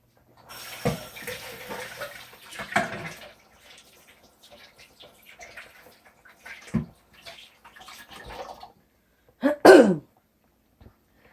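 Water runs from a tap into a sink for a few seconds, followed by scattered clinks and handling noises.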